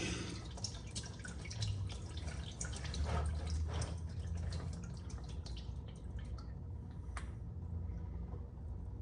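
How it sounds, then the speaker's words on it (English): Motor oil drains steadily from a Ferrari 360 in a continuous liquid trickle and patter that stays fairly even throughout. "Now we'll just let it drain"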